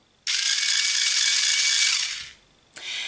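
Electric sharpener grinding a dry pastel pencil: one loud, steady whirring grind of about two seconds that stops, then a second shorter burst begins, close up with no talking.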